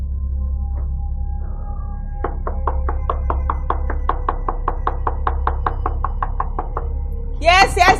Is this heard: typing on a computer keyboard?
no